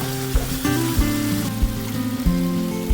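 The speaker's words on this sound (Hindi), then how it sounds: "हम इसको अच्छे तरीके से भून लेंगे।" Chicken karahi frying in a pan, a steady close sizzle with regular spoon knocks and scrapes against the pot, no talking.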